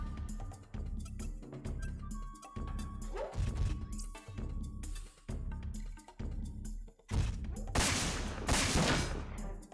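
Gunfire and explosive crashes from the mech combat video game Front Mission 4, a dense, loud barrage of rapid shots and impacts running throughout, with a heavier blast burst near the end.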